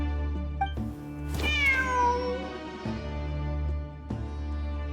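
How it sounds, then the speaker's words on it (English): A cat meows in Genshin Impact, with one long, drawn-out call sliding downward in pitch, set over a steady low game soundtrack drone. "The cat!"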